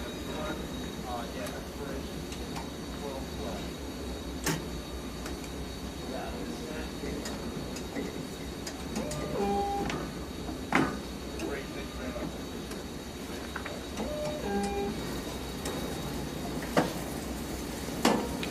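A Horizon BQ-160 perfect binder machine running after its roughening stage has switched off, giving a steady mechanical whir with scattered ticks and clunks. It runs continuously throughout at moderate loudness, and speech is faintly present underneath.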